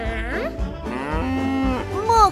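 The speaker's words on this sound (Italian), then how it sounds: "Mucca!" Cow mooing in a farm-animal scene, a loud, drawn-out low call that rises and falls across its length, with a sliding tail at the end and no talk over it.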